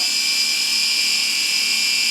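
Motors of an SG900 GPS drone spinning up and running, a steady high-pitched whine and buzz that stays loud and constant throughout.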